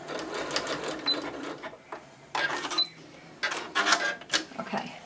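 A sewing machine stitching fabric close by, fast rattling runs in several bursts separated by brief pauses and softer mechanical clicks.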